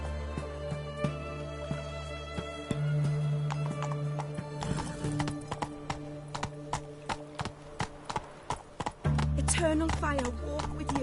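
Roach, a horse in a PS4 video game, clip-clops steadily at a gallop and gives a whinny, with hoofbeats running throughout alongside game music and a character's voice speaking.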